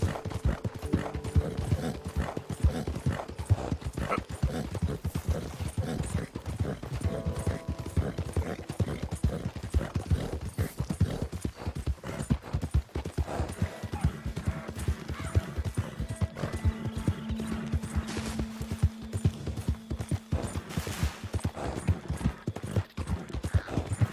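A horse gallops in Red Dead Redemption 2, its hooves drumming in quick, steady clip-clop rhythm throughout, with a brief whinny and mechanical game sounds in the background.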